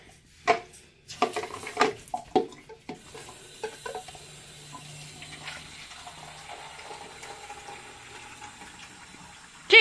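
Water running into a dirty kitchen sink amid clatter of dishes and handling noises, with a steady flowing hiss settling in after the early knocks.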